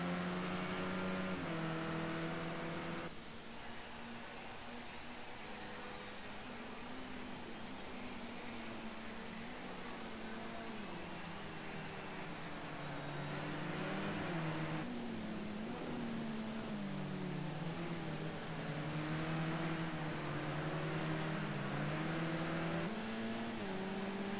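Touring cars lap Silverstone during qualifying in a sim racing championship. Engine notes drone and rise and fall continuously as the cars accelerate and shift, steady and moderately distant throughout.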